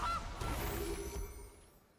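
A single short goose honk from the Gilded Goose card in the MTG Arena card game, loud at the start and then fading away over about a second and a half.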